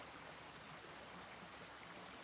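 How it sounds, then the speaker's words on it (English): Creek water flows steadily in the Bluey cartoon, a continuous, even rushing wash that stays at one level without a break and is heard alone. "The creek is beautiful!"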